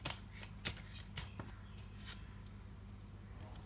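Tarot cards riffle and snap in quick bursts as a deck is shuffled close by, several sharp flurries in the first two seconds and then quieter soft shuffling.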